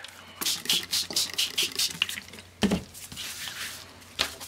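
Water added to seam binding ribbon is squished and wrung, giving wet, crackly squelches and drips in a rapid irregular rhythm, close and fairly quiet.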